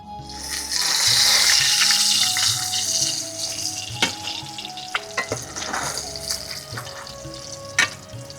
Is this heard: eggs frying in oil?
yes